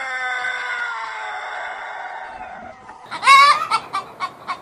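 A rooster crows in a long, drawn-out call, followed by several short, sharp chicken clucks in a quick series, loud and close with no talk.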